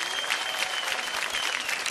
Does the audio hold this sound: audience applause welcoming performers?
yes